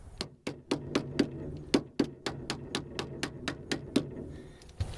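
Rapid series of about fifteen sharp metallic taps, close and fairly loud, knocking rear strut parts into alignment on a 2000 Honda Civic during a rear strut and upper control arm replacement.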